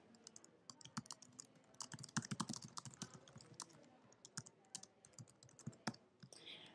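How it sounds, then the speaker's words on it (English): Typing on a computer keyboard, irregular clicky keystrokes in quick bursts, close but quiet, with no talking. "I'm going to type in that this is a description of the assignment and what a student needs"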